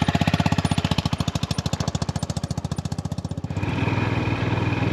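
A Honda motorcycle engine runs close by at the start of a ride, throbbing in a fast, even pulse that shifts to a smoother, steadier drone near the end.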